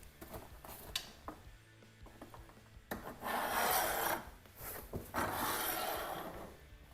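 A rail of a Worksport SC4 Pro folding vinyl tonneau cover slides into place on a truck bed, giving close, loud scraping and rubbing in uneven bursts that grow stronger midway, with no talking.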